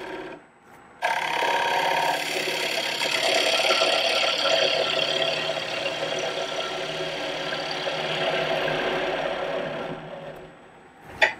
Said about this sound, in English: Now I'm going to gently lift the handle just a touch until the cutting edge engages, and then I'm going to cut.